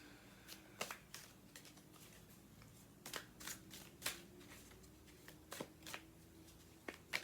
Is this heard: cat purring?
no